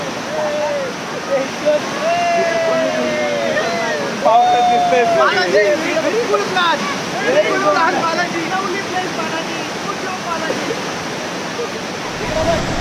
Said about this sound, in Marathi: बघू शकता पाण्याचा प्रवाह इथं भरपूर आहे